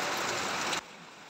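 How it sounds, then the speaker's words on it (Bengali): Steady rain falling outside a window, a broad even hiss that cuts off abruptly partway through, leaving a quiet room. "আমি তো তাই ভেবেছি যে আর মনে হয় বৃষ্টি হবে না, কিন্তু আবার বেড়ে গেল।"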